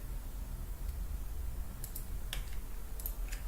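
A few sharp computer keyboard clicks, separate key presses for a 3D modelling shortcut, tap out over a low steady hum, close and fairly quiet, with no talking.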